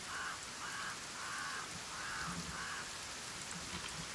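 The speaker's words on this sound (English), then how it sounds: "A lot of crows I hear." Several crow caws, about five in a steady rhythm, ring out over a constant rain-like wash of ambient noise in the game Kenshi, fairly distant and moderately loud.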